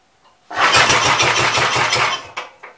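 A 1959 Gravely tractor engine cranks and catches, running rough and loud with a steady chugging pulse for about two seconds before sputtering and choking out in a few ragged final coughs.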